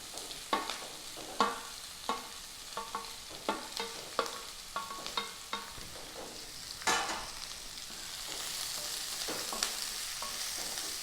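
Chopped small onions fry in a pan with a soft sizzle while a utensil scrapes and clacks against it in repeated sharp strokes, the sizzle growing fuller near the end.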